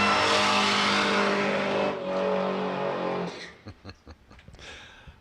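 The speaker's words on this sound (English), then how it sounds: "You just hear the blower whining away as the car does its burnout." Drag racing Morris Minor with a supercharger blower, loud and steady engine roar with a high harmonic whine during a burnout, then choppy bursts of revving near the end.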